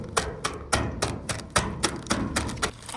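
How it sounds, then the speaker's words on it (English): A sealed packet of Ottogi Ppusha Ppusha bulgogi-flavor snack noodles is hammered to crush the dry noodles inside, giving about ten sharp, evenly spaced knocks, close and loud, with no talking. "It's just to hammer it, but I think it works a little better if you just break it and then hammer it."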